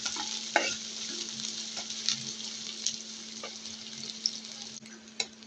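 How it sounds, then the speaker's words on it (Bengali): Onions fry in a pan of oil while greens are being cooked, a steady close sizzle with soft stirring scrapes and a few sharp pops, and no talking. "এই যে আমার পেঁয়াজ ভাজা হচ্ছে।"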